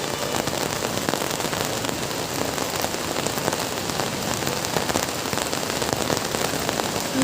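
Monsoon rain pours outside a house gate, a loud, continuous rush of drops hammering nearby surfaces with a dense patter and no voices heard.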